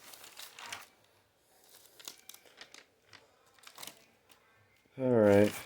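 Paper crinkles and rustles in short, close bursts as a book is opened, with a brief voice sound at the end.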